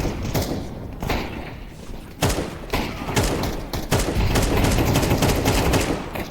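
Rapid gunfire and thuds from a Counter-Strike 2 match, loud and dense throughout, with bursts of shots close together and a faint voice underneath.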